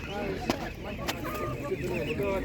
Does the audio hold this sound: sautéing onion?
no